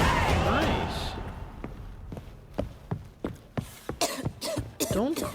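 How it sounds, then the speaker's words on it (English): Coughing and throat clearing in The Witcher 3: Wild Hunt while exploring the city of Novigrad, a string of sharp, close bursts growing more frequent toward the end, with some game voice and background noise. "Don't cough at me."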